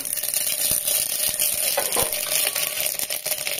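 Mustard seeds and garlic hit hot oil while dal is being cooked, giving a loud, steady sizzle and crackle with a few sharp pops, with no talking.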